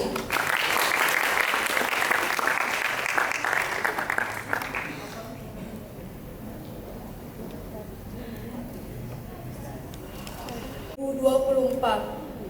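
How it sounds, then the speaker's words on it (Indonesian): An audience applauding a poetry performer at a school solo stage show, loud dense clapping for several seconds that then fades to scattered claps, followed by a brief burst of voices and noise. "beri tepuk tangan yang meriah untuk Syarifah Ratu Alea"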